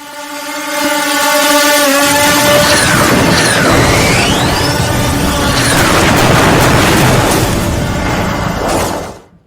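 A loud, sustained roar of drone-strike explosions, blasts and rumbling with whistling tones over it, continuous for several seconds before cutting off.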